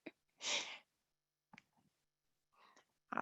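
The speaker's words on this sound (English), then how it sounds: "I'm gonna sneeze real quick." A single sudden sneeze bursts out near the start, loud and close, followed by quiet breaths and small mouth noises with a few soft sniffs in a quiet room.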